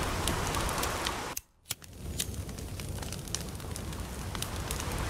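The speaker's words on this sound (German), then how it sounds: "Das Feuerknistern, das Rauschen, das ist jetzt wieder Höhle quasi." Inside a cave in the survival game The Forest, a campfire crackles with scattered sharp pops over a steady hissing rush, briefly dropping out for a moment before resuming, faint and with no voices.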